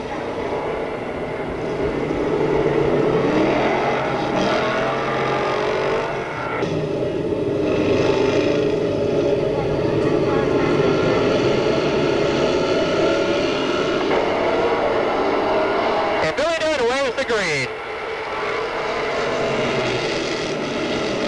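Stock race cars roar around Monadnock Speedway at a 1990 weekly race: a loud, continuous engine drone from the field, with one car whining past close by near the end.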